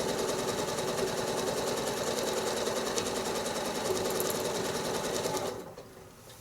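Sewing machine free-motion quilting a spiral, a fast steady mechanical whirr running loud and close for several seconds before cutting off near the end.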